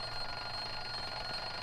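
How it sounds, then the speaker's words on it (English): An alarm clock rings with a steady, unbroken buzzing tone at an even, fairly loud level throughout, with no voices. "there's the alarm clock ringing or buzzing"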